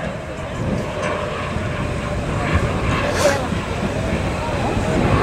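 A Eurofighter jet making a slow-speed flyby at an airshow in Aalborg, Denmark: a steady, broad roar of jet engine noise that holds for several seconds and swells slightly midway, heard from the crowd at a distance.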